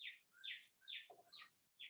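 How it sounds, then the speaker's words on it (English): Several birds chirp during an indoor podcast recording, with short bright tweets and calls repeating every half second or so. The birds sound faint and some distance away, and no one talks over them. "Is this whole podcast going to have that bird in it?"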